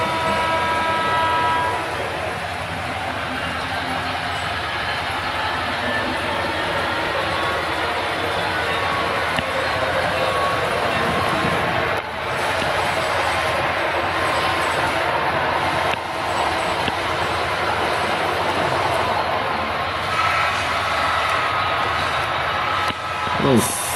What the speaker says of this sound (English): there he goes, trying to get ahead of that passenger train